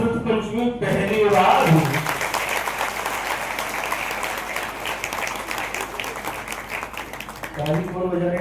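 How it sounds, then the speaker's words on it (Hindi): An audience claps at a Shrut Panchami sermon gathering in Ambad. A long burst of dense, sustained applause comes between stretches of someone speaking at the start and end. "ताली कौन बजा रहे? अम्बड़ वाले ना।"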